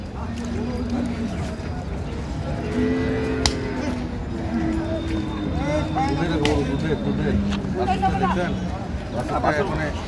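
Cattle, including dairy cows and calves, low a few times amid a crowded livestock market at Ambari Haat, Dinajpur, with people talking and a general babble of voices throughout.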